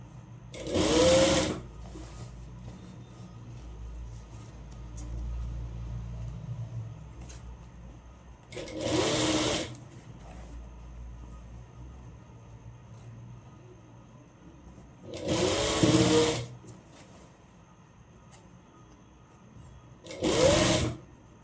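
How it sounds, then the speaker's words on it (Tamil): A sewing machine top-stitches an umbrella frock in four loud bursts, each roughly one to two seconds long and separated by quiet pauses, with a faint low hum lingering between runs. "டாப் ஸ்டிச் போட்டுக்கலாம்."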